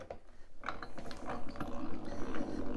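A geared hand tool drives a screw into wood with a close, rapid ratcheting and clicking of gears, turning steadily for about two seconds.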